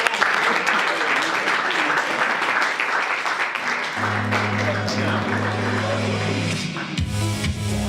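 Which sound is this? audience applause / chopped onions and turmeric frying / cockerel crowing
audience applause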